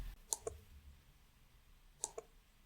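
A computer mouse clicks twice in quick pairs, two double-clicks spaced about two seconds apart, crisp and faint over a quiet room while editing a WordPress page in Elementor.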